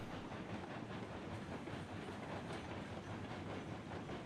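The Montezuma locomotive hauls a long, heavy train in the game Railroads Online, a continuous rumbling chug with steady clickety-clack and hiss, even and unbroken for several seconds, with no voices.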